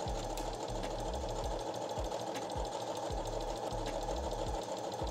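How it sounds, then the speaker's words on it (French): A domestic sewing machine runs steadily as it stitches a hem on fabric for a smocked top, a close, continuous mechanical whir with a regular rapid pulsing throughout and no talking. "on peut passer à la machine et piquer notre ourlet"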